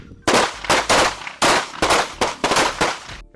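Several sharp handgun shots at a firearms training range, loud and close, cracking out in a quick irregular string of about eight reports over a few seconds with no talk between them.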